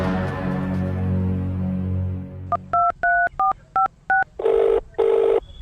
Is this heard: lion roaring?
no